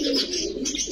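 Chuithal Kaldom pigeons coo at a bird market, a close, soft, rolling coo that repeats in two short pulses.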